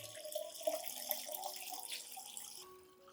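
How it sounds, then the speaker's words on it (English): Clean room-temperature water poured into a diluted plant nutrient solution, a steady, fairly quiet splashing trickle that runs throughout and eases off at the end. "Add 1 liter of clean water at room temperature to dilute the solution."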